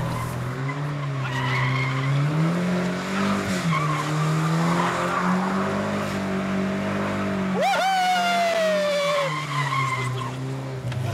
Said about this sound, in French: on va essayer de rester dans le drift